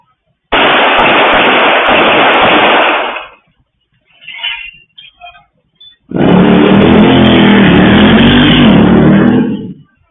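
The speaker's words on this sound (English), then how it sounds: "you can hear the gunshots ringing off. Like, it sounds like an automatic." Two long, loud bursts of rapid automatic gunfire on a CCTV recording, separated by a brief gap with faint scattered sounds, harsh and distorted as if recorded through a poor microphone.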